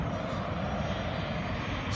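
An airplane taxis in after landing at Syracuse airport, its engines producing a steady broad roar heard from a distance without talk.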